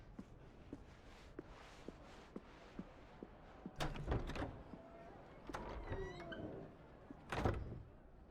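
Heavy, thick wooden doors in Final Fantasy XVI make a few hollow thunks and knocks, with creaking scrapes and sliding sounds between them, set against quiet game ambience.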